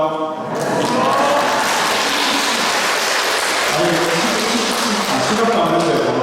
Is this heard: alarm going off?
no